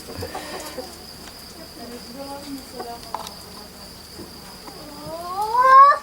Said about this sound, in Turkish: bizim horozdan bu kadarcık bir konser